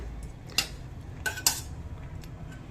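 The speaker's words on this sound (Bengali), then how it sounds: "এবার একটি চামচের সাহায্যে আমি এগুলোকে একটু মিশিয়ে নেব।" A spoon scrapes and clinks against a pot while cashews and raisins are stirred into a vegetarian biryani, three or four faint, brief metallic taps spread over a quiet background.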